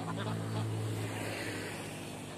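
Ducks quack and honk in a flooded rice field where they forage on leftover grain, a dense close chorus filling the whole moment over a steady outdoor background.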